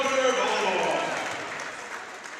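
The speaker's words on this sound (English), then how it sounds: "Let's give one more round of applause for the class of 2026" Crowd applause fills a high school volleyball gym during senior recognition at a Pierre Governors versus Brookings Bobcats match, a steady, dense clapping wash that slowly fades over a few seconds.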